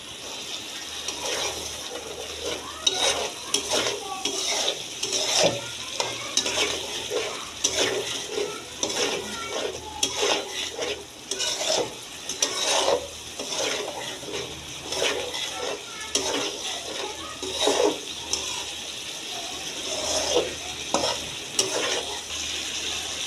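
Spices sautéing in oil for a taro stolon curry with dried fish, a constant frying hiss broken by repeated spatula scrapes and stirring knocks, close and fairly loud, with no talk.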